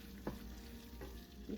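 Ground beef keema stirring in a pan with karela (bitter gourd), three brief scraping strokes over a low steady sizzle, close and quiet.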